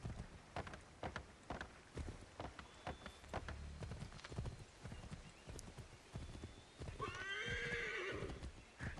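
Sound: person imitating a horse neighing

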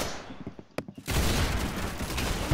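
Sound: gunshot headshot in a video game

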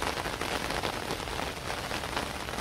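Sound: torrential rain

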